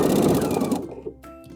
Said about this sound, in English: you want your zigzag to be as wide as your elastic, so test out a few stitches, see if it's the right width